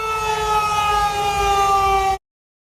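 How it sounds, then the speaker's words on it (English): Civil defense sirens wailing in a steady, loud sustained tone with layered harmonics, continuous for about two seconds before cutting off abruptly. "The sirens had been hacked."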